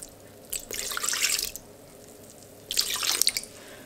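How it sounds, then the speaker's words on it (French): Water poured into a stand mixer bowl holding sourdough starter, two short splashing pours a couple of seconds apart, close and fairly loud, with quiet in between. "je vais ajouter 250 d'eau"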